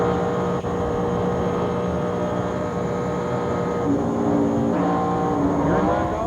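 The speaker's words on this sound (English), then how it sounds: "Listen to the engine and listen as he backs off coming off turn 2." ARCA race car engine at Atlanta Motor Speedway in 2000, a loud, sustained high drone as the car runs through turn 2, then the pitch dips and wavers as the driver backs off.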